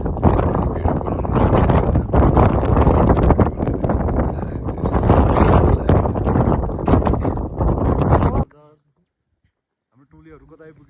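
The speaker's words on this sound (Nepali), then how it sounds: "हावाको साउन्ड सुन्दै डराउनु क्या" Strong wind on a Himalayan trek along the Manaslu Circuit, loud buffeting gusts roaring against the microphone for about eight seconds, then cutting out to near silence with faint distant voices.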